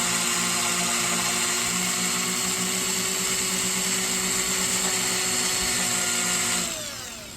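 A drill bores a hole in metal for a rivet, a steady high whine held at one speed for several seconds before winding down at the end, loud and close.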